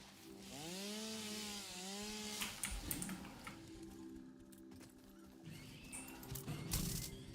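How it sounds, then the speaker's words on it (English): A video game chainsaw revs up with a rising and falling engine whine, then breaks into rough cutting and clattering bursts that continue unevenly, moderately quiet and without speech. "the only other game in which you can run around with a chainsaw"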